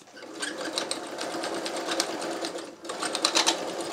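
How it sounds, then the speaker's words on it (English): A home sewing machine stitching fabric for a clown bodysuit, a fast close mechanical whir and chatter that pauses briefly and then starts up again. "The sewing machine is trying my life."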